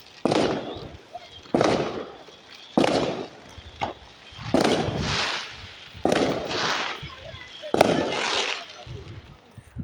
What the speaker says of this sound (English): There are like so many fireworks right now.